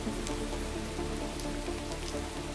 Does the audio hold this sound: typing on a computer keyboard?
no